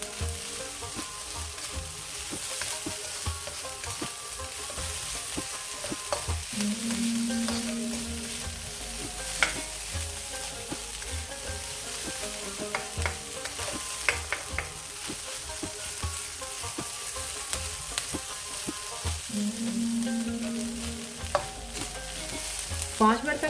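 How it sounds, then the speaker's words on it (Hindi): Onions and chillies fry softly in a pan for chimichangas, a steady low sizzle with occasional stirring taps and scrapes, close and even throughout with no speech. "पाँच मिनट तक इसको फ्राई करेंगे कि ये हल्की सी प्याज और मिर्चें सॉफ्ट हो जाए"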